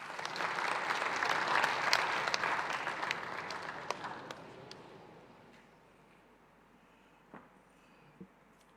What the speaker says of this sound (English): A round of applause as they come.